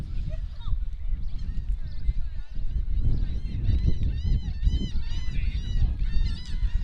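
Fans in the stands at a varsity softball game between Refugio and Port Aransas keep up a steady run of honking horns and noisemakers, loud and continuous over crowd chatter and an announcer's voice.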